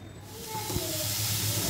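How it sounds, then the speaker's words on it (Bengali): Leafy greens fry in hot oil in a pan, giving a steady hiss and sizzle that builds slightly and holds close and loud throughout, with no talk over it. "এখন ভাজা ভাজা হবে ভালো করে।"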